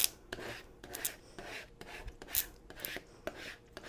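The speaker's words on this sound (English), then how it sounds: "So let's use our burnishing tool." A burnishing tool rubs down a vinyl decal for personalized wedding products, giving soft, close, repeated raspy strokes in an irregular rhythm, heard alone without talk.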